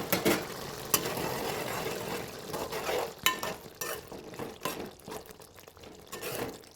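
Soya chunk (meal maker) masala curry cooks in oil on a stove, with quiet sizzling, stirring scrapes and soft wet bubbling in irregular bursts, close and faint.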